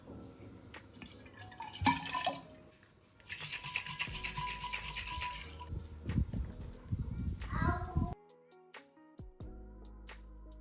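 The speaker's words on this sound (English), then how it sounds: "Rinse out it a little bit more." Fruit rinsed under running kitchen water, with steady broadband splashing and dripping over the first eight seconds, then brief clinks and drips in quieter surroundings afterward.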